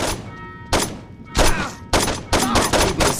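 Gunfire in Saints Row 2 play, loud repeated bursts of shots in short clusters, several heavy volleys spaced about a second apart, fired close and punchy.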